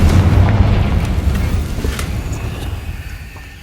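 A Confringo fire spell explodes in Hogwarts Legacy, a single heavy boom with rumbling low-end tail that fades over a few seconds.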